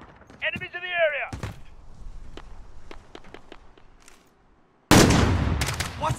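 Gunfire in Call of Duty Warzone comes as a string of sharp, scattered shots between footsteps and voices, ending in a sudden loud close burst of fire.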